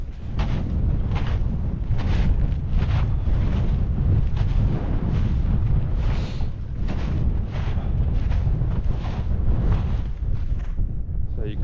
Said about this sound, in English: the wind's picked up